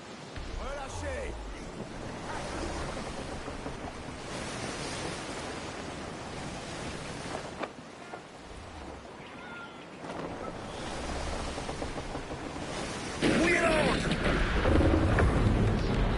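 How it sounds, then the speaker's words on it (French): Strong wind sweeps over the open sea in Assassin's Creed Black Flag, a steady broadband rush mixed with surf and waves that swells louder toward the end, with faint voices under it. "Le vent est de plus en plus fort"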